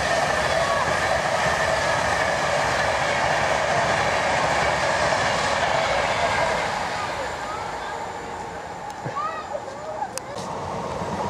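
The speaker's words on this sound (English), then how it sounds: "Virgin train!" A Virgin passenger train rushes past with a loud sustained roar that eases off toward the end, leaving faint squeaks and clicks from the rails.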